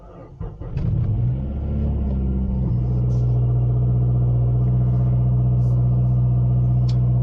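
A car engine starting up for the first time after a Corksport rear engine mount is fitted; a brief cranking catch is followed by a close, loud, steady idle rumble that settles and holds.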